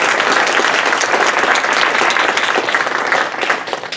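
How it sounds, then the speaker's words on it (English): Loud, dense applause from a panel discussion audience thanking the panelists, many hands clapping continuously and evenly throughout without letting up. "let's give a round of applause to our panelists"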